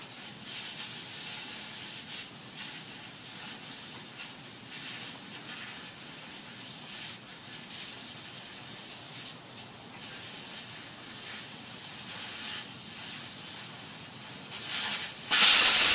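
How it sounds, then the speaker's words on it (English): Air hissing steadily out of an open tire valve stem on a 1975 Ford Bronco as the tire is deflated, a close, continuous airy hiss lasting several seconds before a sudden louder burst at the end. "let the air out of the tire and break the bead"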